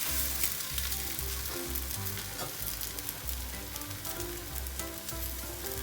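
Sindhi koki flatbread cooking on a hot greased tawa over a gas flame gives a steady, close frying sizzle that runs throughout with faint scraping and stirring.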